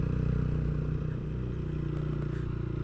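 A TVS motorcycle engine pulls steadily in third gear up a steep mountain road, a continuous low drone with a fairly even throttle and faint clatter, no talking.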